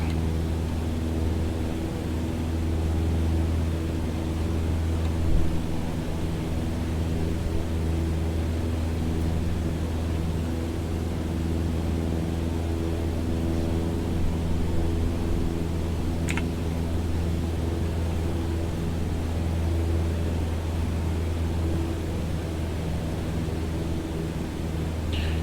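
A steady, even drone of an aircraft engine in flight in a flight simulator (MSFS2020 or X-Plane 11), unchanging and moderately loud for the whole stretch, with no talking.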